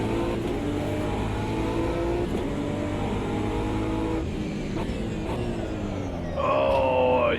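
A BMW M4 GT3 race car engine in a racing game, a loud steady drone holding high revs with gear-shift dips, then a sharp rising rev near the end.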